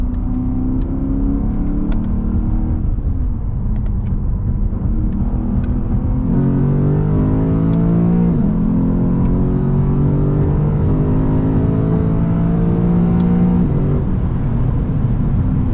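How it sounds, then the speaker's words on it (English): A Lexus GS F sedan driving through a series of turns, heard from inside the cabin: a loud, continuous engine drone whose pitch climbs and falls with the gear changes and the throttle, with no voices. "this car does feel so planted around these turns"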